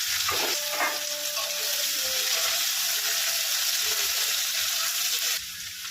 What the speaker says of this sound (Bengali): পেঁয়াজটা দিয়ে দিলাম, ভেজে নেব